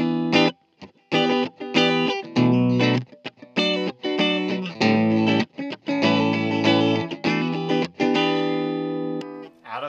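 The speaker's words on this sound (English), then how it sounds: "In phase, no effects." A 1970s Kay/Univox Effector Les Paul electric guitar with its pickups in phase and no effects, played loud and alone as a run of strummed chords and picked notes with short gaps between phrases.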